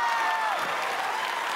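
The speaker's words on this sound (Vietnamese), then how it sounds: "vỗ tay." A studio audience on a Vietnamese TV quiz game show breaks into dense, even applause that carries on steadily, with a voice faintly under the clapping.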